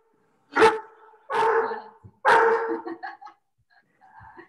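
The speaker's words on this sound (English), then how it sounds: "we probably all love to hear a happy dog who's just wanting to get some cookies too" A happy dog barks eagerly for cookies, three loud close barks spaced about a second apart, followed by a few softer yips and whines trailing off.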